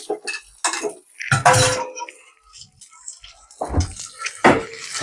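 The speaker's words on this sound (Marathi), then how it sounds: "एवढूस काय केलं तर एवढी भांडी कशी पडतात ना" Dishes and pans clattering and falling in a home kitchen, several loud metallic crashes and clinks in bursts with short gaps between them, close by.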